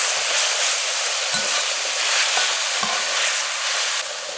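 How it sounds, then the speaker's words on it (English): Saltfish added to a hot pan, frying with a loud, steady sizzle and a few soft stirring knocks, continuous throughout with no talk. "And now we're going to add our saltfish."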